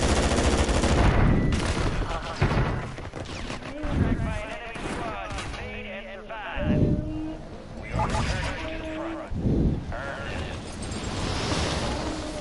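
Gunfire crackles in Call of Duty Warzone, with bursts of rifle and machine-gun shots and a few booms scattered through the stretch, while a voice talks over the fighting now and then.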